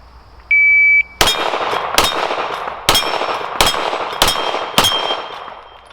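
An electronic shot-timer beep sounds, then six loud pistol shots from a Canik Mete SFx ring out at a steady pace at an outdoor range, each one ringing off steel targets with a metallic clang.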